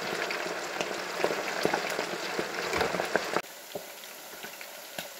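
Pike deep frying in hot oil, a dense crackling sizzle with scattered pops that drops noticeably quieter about two-thirds of the way through and keeps bubbling softly.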